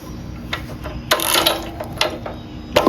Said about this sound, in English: So just stick your wrench in there and just pull upwards.